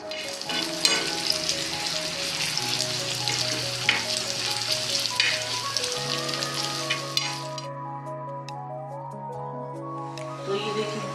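A small onion fries in oil for a baghar tempering, giving a steady close sizzle and crackle with some stirring, heard beneath a sustained tonal background throughout.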